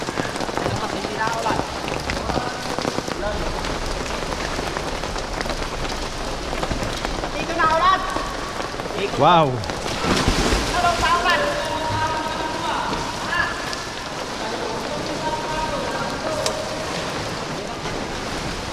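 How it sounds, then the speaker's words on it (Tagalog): Water dripping and falling like rain inside Lamao Cave in Dingalan, a large cave with deep water, forming a steady dense patter throughout with a brief exclamation from a voice partway through. "Umuulan sa loob."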